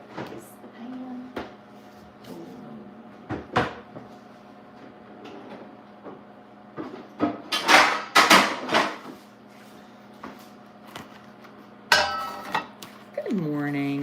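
Pans clatter and bang in a home kitchen as someone rummages through a cupboard, with scattered knocks, a loud burst of rattling metal midway and cupboard noises, while a person talks intermittently.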